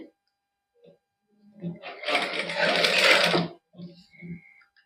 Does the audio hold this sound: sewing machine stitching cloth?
yes